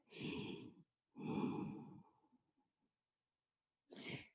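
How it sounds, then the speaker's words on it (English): Deep audible breaths during gentle hatha yoga breathwork, two long airy exhales close to the microphone, then a silence and a third shorter breath. "long exhale."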